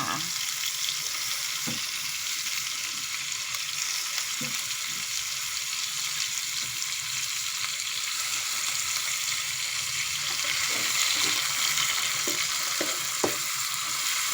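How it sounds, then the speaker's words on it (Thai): Vegetables stir-fried with chicken giblets in a hot pan: a steady, close sizzle and hiss, with occasional clacks of the utensil against the pan as the food is stirred. "แล้วก็คอยผัดไป รอสักพักให้พักสุกก้อนเขาก็จังปรุงเครื่อง"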